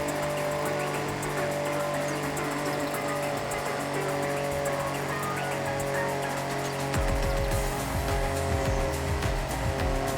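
A car's engine drones steadily through a time attack lap in Forza Horizon 6, a sustained loud, even tone with shifting pitch, before a rougher, pulsing rev takes over near the end; no talking.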